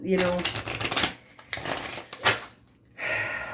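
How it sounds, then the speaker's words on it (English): Tarot cards being shuffled and pulled for a reading, several crisp riffling bursts and flicks close by, separated by short gaps. "I'm going to pull a love card, because I might even pull a few love cards"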